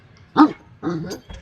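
Dog barking up close in a short burst of two or three sharp barks with a brief whine-like tail, loud against a quiet background.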